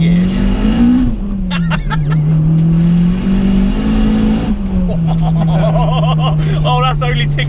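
A 370 bhp turbocharged Honda Civic EP3 hot hatch with a loud exhaust revs hard up close, its engine note rising and falling in strong surges before settling to a steady drone, with people talking over it.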